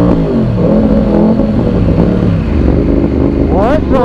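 A Yamaha R1 motorcycle engine sits loud and close, droning and stumbling as it bogs under throttle in traffic, with a brief higher rising whine near the end.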